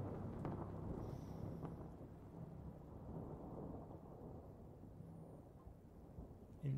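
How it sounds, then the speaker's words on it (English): Thunderstorm with steady rain in the horror game Hollowbody, falling on the cracked windshield of a hover car; a low rolling rumble sits under continuous soft rain hiss throughout, fairly quiet, with no voices. "rain pounding on the cracked windshield of my hover"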